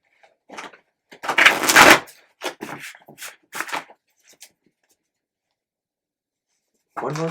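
Tarot cards are shuffled in a few quick, crisp riffling bursts close by, followed by a pause of silence and another brief shuffle.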